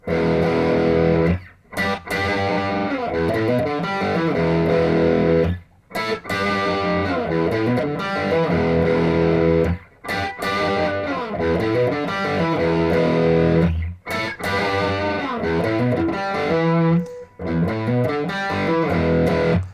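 A distorted electric guitar plays the chugging, repeating second part of the intro to a rock song in loud bursts, with brief gaps between phrases and no voices.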